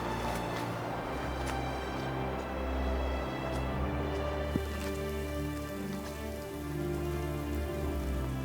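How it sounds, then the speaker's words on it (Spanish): Steady heavy rain mixed with hail pattering on a surface at a campsite during a thunderstorm, a dense continuous wash of drops with occasional sharper hits, close and loud throughout. "Como siga lloviendo así, ¿veis cómo rebota?"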